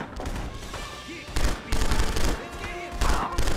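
Repeated bursts of loud gunfire in the video game The Punisher, several sharp volleys spaced through the moment with brief gaps between them and faint voices underneath.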